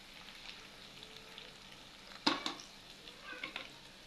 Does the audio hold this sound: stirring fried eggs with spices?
yes